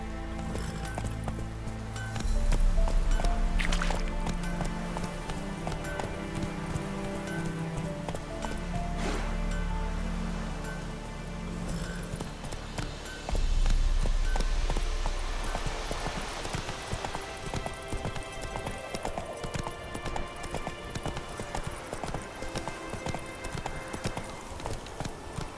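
Roach the horse gallops in The Witcher 3, hooves pounding in a steady rapid rhythm beneath game music and ambience, with louder bursts of hoofbeats as the pace surges.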